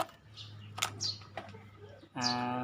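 Pigeons in a home loft make a few short, faint wing flutters and chirps, followed by a louder, close cooing call at the end.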